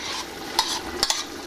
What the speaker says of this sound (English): saute it again till the oil separates